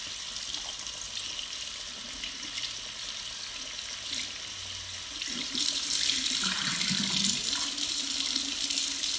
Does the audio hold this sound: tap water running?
yes